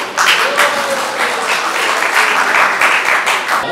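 Hearty applause from the audience at a national award ceremony in Nepal honours an elderly guest, a loud, continuous patter of many hands clapping throughout.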